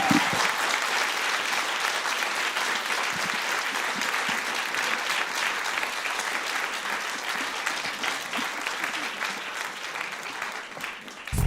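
Sustained applause from an audience in a room after a panel talk on discrimination and harassment in arts education, dense and steady throughout, tapering slightly near the end.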